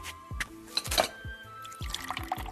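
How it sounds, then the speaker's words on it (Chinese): Water poured into a cup, with repeated close trickling gurgles and faint clinks of glassware, all quiet with no voices. "我给你倒水。"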